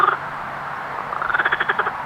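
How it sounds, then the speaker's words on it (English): Frogs croak at night beside a fishing lake, one loud call at the start and then a quick rattling run of pulsed croaks building toward the end, close by. "Don't know if you can hear them frogs, but they go all night."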